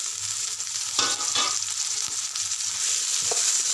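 Onions frying in a pan for chicken curry, heard as a loud, continuous crackling sizzle close up with a couple of brief stirring scrapes.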